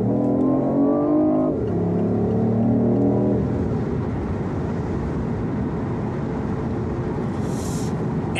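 A three-cylinder hybrid sports car plays an artificial engine sound: a tonal, humming drone that steps up in pitch, then gives way to a broad, steady rushing roar with no talking.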